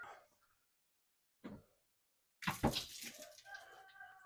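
Water spills out of a used exhaust part taken from a 2013 Subaru STI sedan. A couple of soft, brief splashes and a short trickle break up near silence, and the sound is quiet and close.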